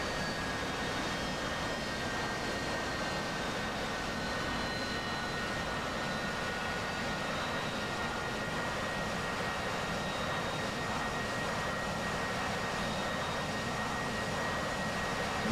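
An AI wingman's jet aircraft taking off in a flight simulator game, a steady, even engine roar with a thin high whine that holds constant throughout, with no voices.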